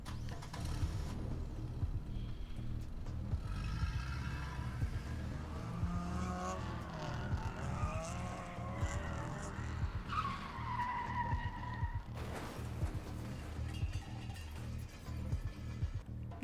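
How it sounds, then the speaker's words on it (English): In the video game The Bookwalker: Thief of Tales, car tires screech and squeal in long sliding skids over engine noise, ending with an abrupt crashing jolt near the end. "That sounds like a car crash."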